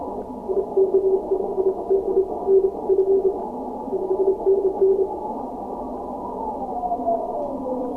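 Morse code stations calling PW0F on the 30-metre amateur radio band, several overlapping keyed tones beeping in bursts over radio hiss and static, with a tone sliding in pitch near the end.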